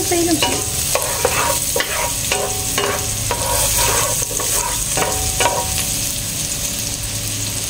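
Sliced onions sizzle and crackle in a hot pan for adobo while a spoon scrapes and stirs in bursts of strokes, with a steady frying hiss underneath throughout.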